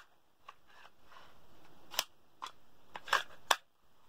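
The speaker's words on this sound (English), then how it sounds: "Take this off, and the CO2 goes in there." A CO2 cartridge fitted into a CO2 airsoft pistol after removing a part: a series of sharp, close metallic clicks and snaps, a few spaced apart and two louder ones near the end, in a quiet room.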